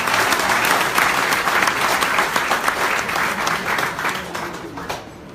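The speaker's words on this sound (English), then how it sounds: "Can I see a big applause for that?" Audience applause fills a gala dinner hall in Lisbon, a sustained dense wash of many hands clapping that holds steady, then thins and fades toward the end.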